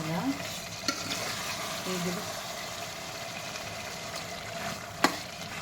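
Mutton frying in a pot for biryani, with steady sizzling and a few clinking stirs of a spoon against the pan, close and continuous.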